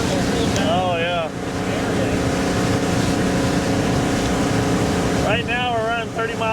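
A 1973 Cobalt boat powered by a 165 hp Mercruiser engine cruises on the Mississippi River at speed, its steady engine drone mixed with rushing water and wind buffeting, with people talking over it.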